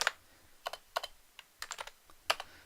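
Computer keyboard keys clacking in short bursts as CMD is typed, several crisp close taps spaced irregularly in an otherwise quiet room.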